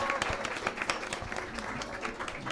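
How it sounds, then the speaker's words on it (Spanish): Steady applause from an audience at a talk on bioacoustics fills the whole moment, a dense patter of many hands clapping at moderate distance. "Un aplauso para Camilo."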